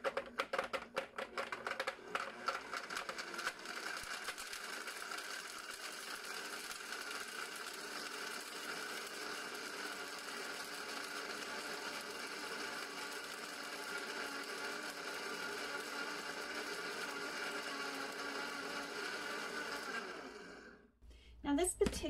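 A blender grinds a mix of dried culinary and medicinal mushrooms into powder, a steady loud whirring drone that runs continuously for about twenty seconds before cutting off abruptly.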